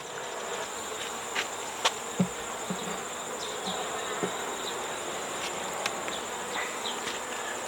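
Bees buzzing near a hive entrance, a soft continuous hum with a few brief louder passes as individual bees fly close.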